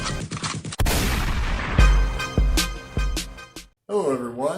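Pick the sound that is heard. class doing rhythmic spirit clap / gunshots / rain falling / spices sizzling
gunshots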